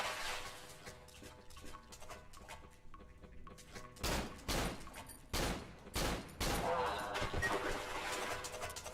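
Gunfire in the horror video game Cry of Fear, several loud close shots in quick bursts after a quieter stretch of game sound, with people talking over it.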